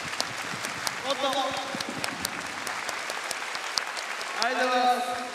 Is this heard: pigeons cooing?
no